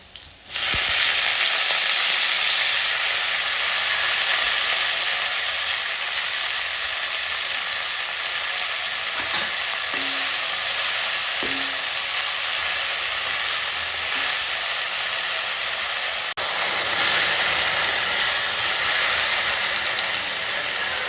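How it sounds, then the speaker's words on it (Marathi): Tandulja (amaranth) greens stir-fry in a pan on low gas, giving a loud, steady hissing sizzle that runs almost unbroken throughout, with a few faint knocks and one sharp clack near the end and no talking. "व्यवस्थित आपली भाजी आपल्याला परतवून घ्यायची।"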